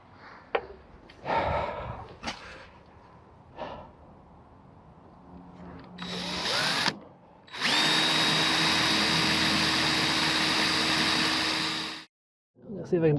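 A power drill drives two screws to fix an old-school RV propane furnace in place inside a van, with loud sustained whirring bursts, the longest running several seconds before stopping abruptly, amid some handling noise.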